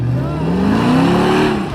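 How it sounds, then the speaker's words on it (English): A Toyota Land Cruiser 300 Series GR with a V6 engine revving loudly up close, its pitch climbing smoothly in one strong pull. "Blackout has got this awesome note that comes out of it."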